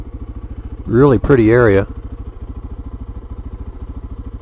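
A motorcycle rides forest roads in South Central Maine near Sugarloaf Mountain, its engine a steady close pulsing thrum throughout while someone briefly talks over it.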